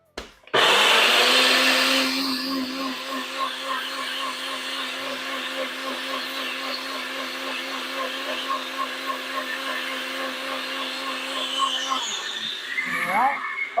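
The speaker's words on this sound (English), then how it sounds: "you put that in a blender in your nice bullet" A bullet blender whirs continuously for about eleven seconds, loud and close, blending watermelon with fresh mint into a smoothie, then winds down with a brief clatter at the end.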